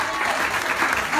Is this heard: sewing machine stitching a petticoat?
no